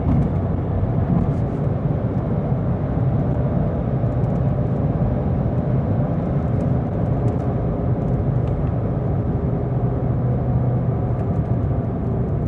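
A 2018 Volkswagen Polo Highline driving at speed on a newly built road, its steady engine drone and road rumble continuous and loud from inside the cabin, with no voices.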